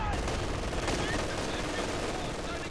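Machine gun fire in a strategy video game, with a dense, continuous rattle of shots mixed into battle noise.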